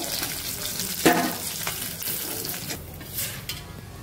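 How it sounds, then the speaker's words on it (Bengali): Sea fish fry in a pan of oil, a steady close sizzle with a brief clatter of a utensil stirring or turning the pieces, with no voices. "মাছ ভাজা হয়ে গেছে, এবার তুলে নিব"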